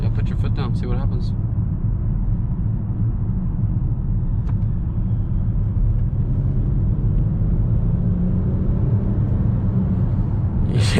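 2019 Land Rover Discovery HSE Sd6 accelerating hard from inside the cabin, a steady low engine rumble and road roar holding throughout, with brief voices at the start and end.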